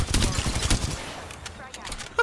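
Rapid machine gun fire in the shooter game Apex Legends rattles in dense close bursts for about a second, then thins into scattered distant shots.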